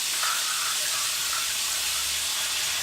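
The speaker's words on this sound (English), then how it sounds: "This is when you put in your coconut milk." Coconut milk poured into a hot pan with translucent choko, producing a loud, continuous steamy hiss that holds steady without a break throughout.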